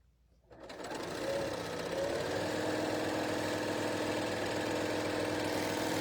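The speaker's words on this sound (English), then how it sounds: "grab a polka dot, right sides together along the 8-inch edge, and stitch" A sewing machine stitching quilt fabric pieces, polka dot print sewn right sides together along an 8-inch edge, starts after a brief quiet moment and then runs as a steady, loud, continuous mechanical whir until the end.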